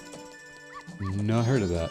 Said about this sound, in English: look how realistic that dog looks